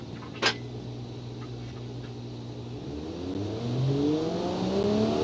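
A Turismo race car in a racing video game pulls away from the race start, engine note climbing steadily and rising louder through the gears after a brief click, with no talk.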